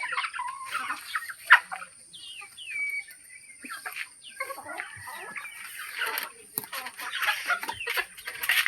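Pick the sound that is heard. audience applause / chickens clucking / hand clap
chickens clucking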